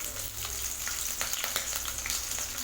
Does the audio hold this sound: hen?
no